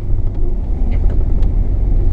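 Car driving along a road in second gear through a park, a steady low engine and road rumble heard from inside the cabin, moderately loud and continuous with no talking.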